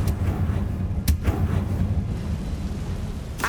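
Confringo fire-blast spell from Hogwarts Legacy, a sharp burst followed by a rumbling low blast and a second hit near the end, over a deep ambient drone.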